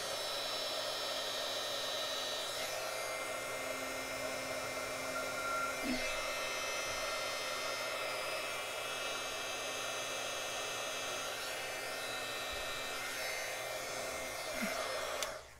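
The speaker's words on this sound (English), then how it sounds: "I'm going to get my heat gun and melt that little piece that I missed" Heat gun blowing hot air to melt embossing on a stamped card panel, a steady close whooshing roar that runs unbroken from start to finish with a faint whine inside the noise.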